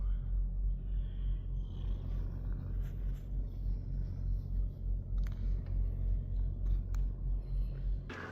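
Steady low hum of idling trucks at a truck stop, a continuous deep rumble filling the background with occasional faint higher clicks, heard from inside a van with no talking.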